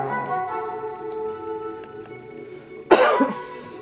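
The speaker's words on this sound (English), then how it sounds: "excuse me, still coughing" A single harsh cough bursts out near the end, loud and close, after a stretch of quiet ticking and low hum.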